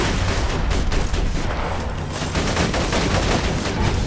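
Sustained, dense gunfire from the shooter video game Borderlands 2, rapid overlapping shots forming a loud continuous barrage with no pauses across the stretch.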